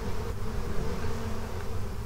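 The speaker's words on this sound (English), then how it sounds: "Oh, he's covered us in bees?" A swarm of bees buzzes in Dragon Age: Origins, a dense, steady droning hum that stays close and fairly loud for the whole stretch.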